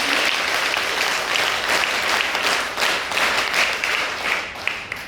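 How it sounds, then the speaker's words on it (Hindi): Sustained applause from NCC cadets gathered at a college honours ceremony, a dense steady wash of clapping hands that carries on for the whole stretch with no voices over it. "तो एक बार अपने लिए आप जोरदार तालियां बजा सकते हैं"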